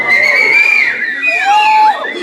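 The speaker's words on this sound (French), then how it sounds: "Allez-y, sifflez." A burlesque show audience whistles on cue, several sharp, loud, high whistles rising and falling in overlapping shrill bursts, with some crowd noise beneath.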